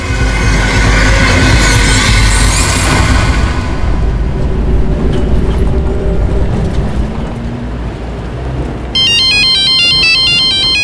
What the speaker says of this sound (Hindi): मैं आपको फोन उठा के देती हूँ।